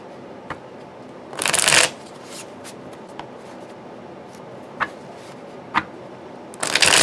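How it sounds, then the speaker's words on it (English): Tarot cards are riffled in a brief rushing shuffle, followed by scattered light taps and clicks, then another shuffle begins at the end. "They shuffle beautifully."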